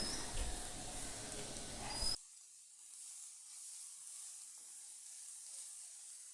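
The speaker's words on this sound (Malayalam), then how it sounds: "ഇപ്പോൾ ഇത് നന്നായിട്ട് വഴറ്റിയെടുക്കാം" Drumstick flowers sautéing in a pan make a loud, dense sizzle for about two seconds, then drop abruptly to a faint, steady hiss.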